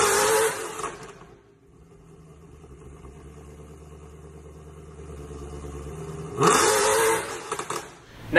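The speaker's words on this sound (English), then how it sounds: "we have the exact same setup except with ARH headers, but also straight back to the mufflers" Mercedes W204 C63 AMG V8 with ARH headers running straight back to the mufflers: a sharp rev blip, a low burbling idle, then another loud rev rising and cutting off, close to the exhaust.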